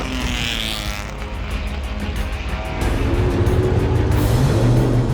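Vintage racing cars run at speed around the Goodwood circuit, engine roar rising as one car comes closer and then grows louder and steadier toward the end.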